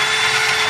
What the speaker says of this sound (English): I am on lunch break while Allan is drilling these beautiful holes